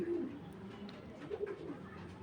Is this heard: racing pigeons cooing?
yes